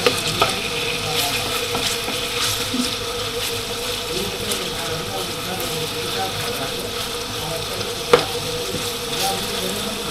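Onions frying in a pan, a steady close sizzle with occasional stirring clinks and scrapes, continuous throughout.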